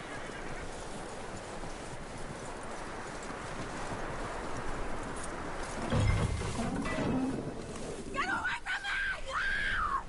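Horse hooves clip-clop steadily in Red Dead Redemption, fairly close and audible beneath a dense bed of game ambience, with shouting and other voices breaking in toward the end.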